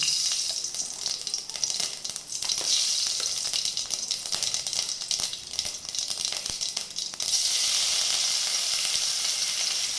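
Mustard seeds crackle and sizzle in hot oil for a tempering, a loud, continuous close-up spattering hiss that stays steady throughout with no talking.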